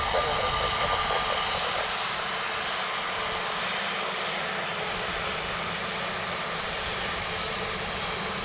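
Airliner on final approach to land on runway 28 left at Dublin Airport, a steady, loud engine roar with broad rushing noise that holds level throughout, with no talk.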